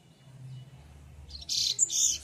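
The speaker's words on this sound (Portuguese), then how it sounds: "Tem 3 passarinhos em casa. Todos eles cantando muito." A pet songbird kept at home bursts into a quick run of bright, high chirps and trills after a quiet stretch of low indoor hum, loud and close.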